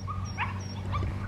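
German Shepherd puppies whimper and yip in short high squeaks, several brief cries in quick succession over a low steady hum, close by.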